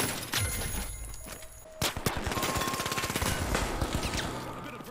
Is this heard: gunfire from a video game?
yes